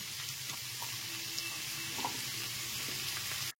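Mixed winter vegetables and pumpkin pieces frying in a pan give a steady, fairly loud sizzle, with soft scraping stirs rising out of it now and then. It cuts off abruptly at the end.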